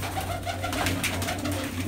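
Pigeons coo steadily in a loft, soft repeated low calls running throughout with no talk over them.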